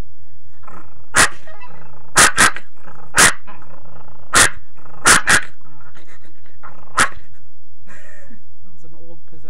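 A girl imitates a chihuahua with sharp, high yips and short growls: about eight loud barks in an uneven burst, with low rumbly growling between them.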